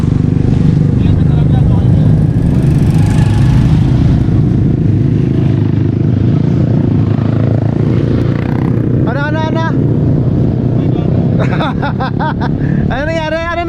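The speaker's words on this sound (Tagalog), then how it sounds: "Pag-isinda natin yung motor." A motorcycle engine runs continuously on a mountain adventure ride, giving a loud, steady low rumble that holds throughout, with brief bursts of speech near the end.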